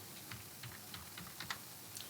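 Light clicking keystrokes on a computer keyboard, a handful of separate taps, as the last five digits of a vehicle chassis number are entered for an online road tax payment, close and quiet with no talk.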